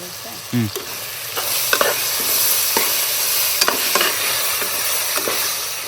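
A spoon stirs biryani masala in a pot, with a steady sizzle of frying under irregular scraping strokes. The sound is close, with no talking.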